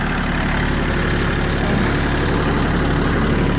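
Small Kubota tractor engine idling steadily, a constant low diesel rumble close to the microphone with no speech.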